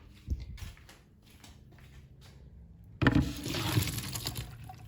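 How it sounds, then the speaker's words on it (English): Cooked orzo pasta and its hot cooking water are poured into a strainer over a kitchen sink: a sudden loud, splashing gush after a quieter stretch of faint clatter, then a steady rushing drain to the end. "we're going to strain this now over the sink"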